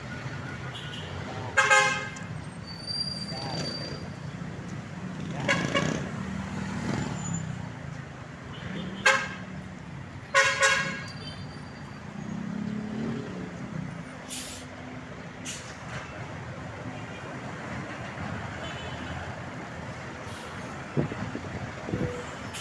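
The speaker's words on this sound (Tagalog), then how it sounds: "Ayan, traffic po rito ngayon mga idol, traffic." Busy Manila street traffic near the Quezon City circle, with several loud car and truck horn toots standing out over a steady engine rumble and an air-brake hiss.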